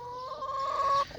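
A single chicken clucks close by on a homestead, a brief drawn-out call lasting about a second.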